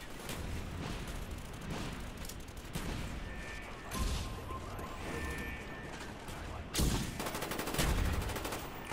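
Gunfire in the Call of Duty: Black Ops video game, including an AK-74U, dense bursts of shots and crackling explosions in a busy multiplayer Domination match, with louder blasts toward the end.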